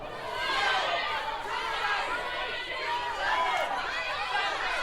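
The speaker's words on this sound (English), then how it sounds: "The crowd's trying to help you. Listen to them." A game show studio audience shouting answers together to help a contestant: a dense, continuous roar of many overlapping voices, loud and close throughout.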